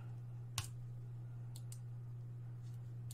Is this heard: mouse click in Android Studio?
yes